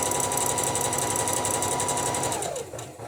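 A sewing machine runs at a steady fast pace, stitching and back stitching along fabric for a few seconds before winding down and stopping, close and continuous with no talking.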